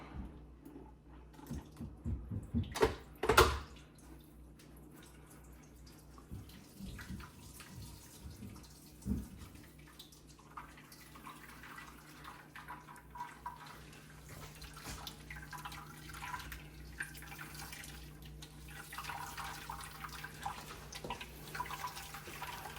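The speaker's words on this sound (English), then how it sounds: "I hold this like this and I pour it inside of this to strain it" Homemade green juice is poured through a handheld strainer, giving a faint, quiet trickle. A brief burst of handling noise comes near the start, with no talking.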